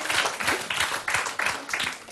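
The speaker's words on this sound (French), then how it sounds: "On l'applaudit." A studio audience on a French television show claps in a quick, fairly loud burst of applause that pulses in waves.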